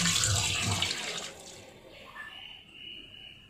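Tap water running into a sink while fish are cleaned, a loud close splashing stream that cuts off after about a second and a half, leaving faint trickles and drips.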